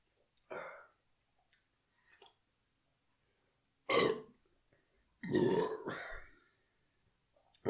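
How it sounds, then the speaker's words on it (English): Several close, loud burps erupt after sipping a bitter beer, short guttural bursts separated by silence, with two larger belches near the end. "no aroma on burp"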